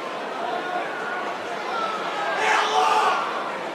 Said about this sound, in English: Crowd letting the referee know that Kavana might have been just holding on a little bit for too long here